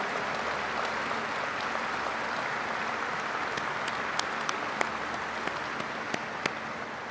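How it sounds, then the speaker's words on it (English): Big round of applause for congressional leaders at a speech at NASA headquarters, steady dense clapping from a large audience lasting throughout, with a few sharper individual claps standing out. "give these leaders in the House and in the United States Senate a big round of applause,"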